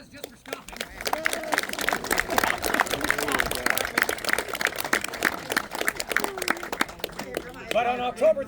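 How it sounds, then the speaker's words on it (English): Scattered clapping from a small tour group outdoors at Fort George, a loose round of separate claps mixed with voices talking, moderate and close, tapering near the end. "Let's give them a round of applause just for stopping."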